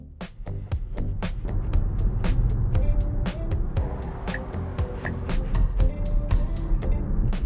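A car drives along the road with a steady low engine and tire rumble heard from inside, steady throughout and broken by repeated sharp clicks and knocks.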